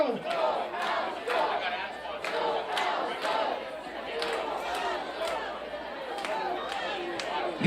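Crowd at a NightOwls versus NorthPaws baseball game cheering and shouting in a steady, dense roar with rhythmic chant-like bursts, while an announcer talks over the noise.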